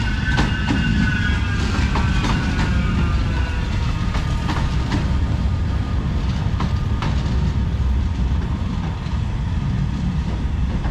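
A train departing a station on the Stockport–Altrincham line rumbles steadily nearby with rattling wheels, metallic clicks and a faint squeal, loud and continuous throughout, with no voices.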